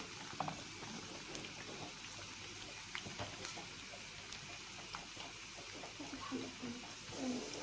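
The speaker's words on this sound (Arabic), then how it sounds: "بصوا بقى البصل خلاص اهي قربت تحمر، لسه برضه تحمر جامد، عايزاها تحمر قوي" Onions sizzle in hot oil as they fry toward deep brown, a steady soft crackle and hiss with small pops, faint and continuous.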